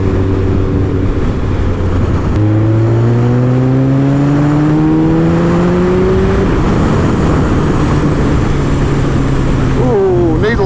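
A supercharged Kawasaki ZZR1400 motorcycle accelerates hard along an open road, its engine note climbing steadily through the gears with a shift near the middle, under loud constant wind roar.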